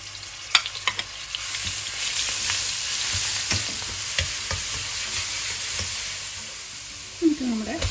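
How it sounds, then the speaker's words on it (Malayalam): Cumin and ginger garlic paste frying in hot oil for chicken jalfrezi make a soft, continuous sizzle, with occasional sharp clicks of a spoon stirring against the pan. "ജീരകം ഒന്ന് മൂക്കുമ്പോൾ നമുക്ക് ഇഞ്ചി വെളുത്തുള്ളി പേസ്റ്റ് ഇട്ട് കൊടുക്കാം"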